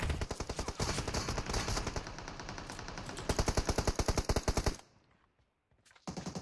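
Loud, sustained automatic rifle fire in PUBG Mobile, rapid rhythmic shots for nearly five seconds, then a brief silence before firing resumes.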